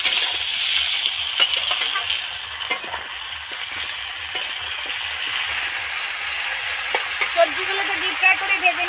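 Vegetables including potato and eggplant deep frying in hot oil for a fish curry, a steady close hiss of sizzling with a few small clinks from the pan.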